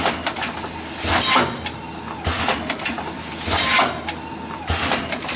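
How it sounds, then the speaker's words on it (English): A printer mounted on an empty-bag packaging machine running at about 25 bags per minute clatters in repeated mechanical bursts, with rising whirring strokes roughly every second over a steady hum, close and fairly loud. "The printer."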